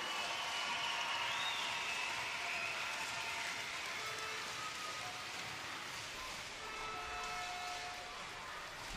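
A steady, loud wash of crowd noise fills a swimming venue at the 2017 European Short Course Championships in Copenhagen, a broad roar that rises as a home swimmer lines up in lane 7, continuous throughout with no clear speech.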